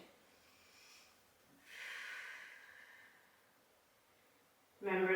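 Slow breaths in and out during a Pilates core exercise on a mat: a soft, quiet inhale, then a longer, stronger airy exhale lasting about a second, ending in a louder breathy burst. No talking.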